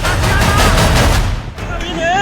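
Gunfire during protest firing in Rawalakot, PoK, comes as a rapid string of loud cracks and bursts, then fades as raised voices and shouting rise near the end.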